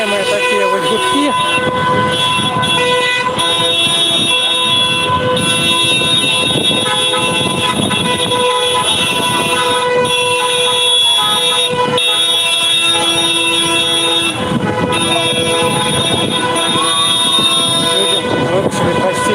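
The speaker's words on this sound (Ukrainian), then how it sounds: "Тут нескончаемые такие вот гудки." Car horns honk continuously along a city street during a solidarity protest in Mogilev, Belarus, in August 2020, steady overlapping blasts over crowd and street noise throughout.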